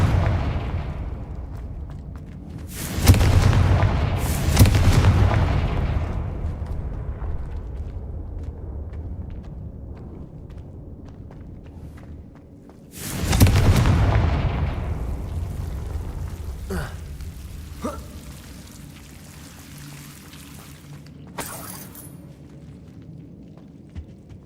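Fire spell explosions from Confringo in Hogwarts Legacy, two heavy booming blasts several seconds apart, each with a long rumbling decay, followed by a few fainter pops.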